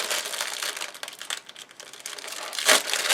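Plastic and paper packaging of a Victoria's Moon 5D diamond painting kit crinkles and crackles steadily as it is opened up close, ending in a sharper, louder crumple.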